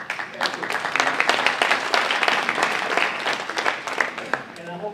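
An awards dinner audience applauds, with a dense patter of clapping that runs steadily throughout and tapers slightly toward the end.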